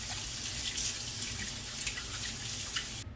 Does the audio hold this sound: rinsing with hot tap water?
yes